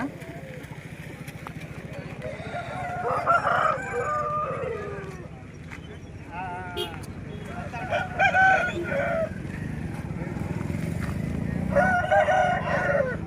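Several roosters crow repeatedly at Gudur chicken market, a busy outdoor poultry market selling aseel fowl, with clucking and someone talking over the steady crowd noise.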